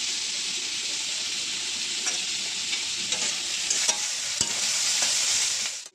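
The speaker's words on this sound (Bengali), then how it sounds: "ভালো করে ভেজে নিতে হবে যাতে হালকা বাদামি কালার টাইপের হয়ে যায়" Onions and dried fessa fish fry steadily in a pan with a dense, continuous sizzle, broken now and then by soft stirring scrapes; close and loud, with no talking.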